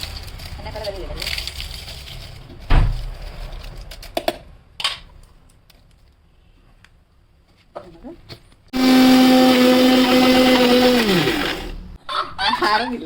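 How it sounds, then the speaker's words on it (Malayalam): Pappadam being ground in an electric mixer grinder: a loud, steady whirring grind from about 9 to 12 seconds, with scattered clatter and voices earlier. "നമുക്ക് ഇങ്ങനെ ചെറുതായിട്ട് പൊടിച്ചിട്ട് മിക്സിക്കകത്ത് തന്നെ ഇടണം കേട്ടോ"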